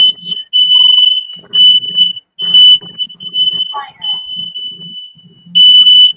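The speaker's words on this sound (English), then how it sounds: "the fire alarm went off on you" A smoke or fire alarm shrills with a steady, piercing electronic tone that runs almost without a break, cutting in and out slightly. People talk underneath throughout.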